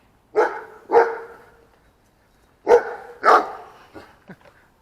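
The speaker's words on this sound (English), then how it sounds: "Hey, puppies." Puppies behind what may be an invisible fence on a residential street bark in two pairs of sharp, close yips separated by a pause, followed by a few softer whimpering yaps.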